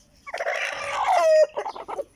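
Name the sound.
Aseel chickens, hen and roosters, clucking and crowing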